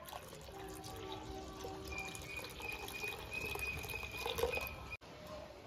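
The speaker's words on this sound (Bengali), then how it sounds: "অল্প ঠান্ডা জল দিয়ে দিচ্ছি" Cold water poured into a watermelon milkshake, a soft, steady trickling flow with faint tonal ringing, quiet and continuous, cut off abruptly near the end.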